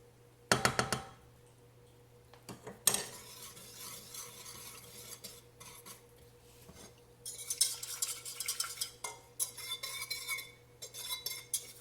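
Salt stirred into a liquid soap brine, a spoon clinking sharply against the container a couple of times early on, then bursts of close scraping and swirling that grow busier toward the end, with no voices.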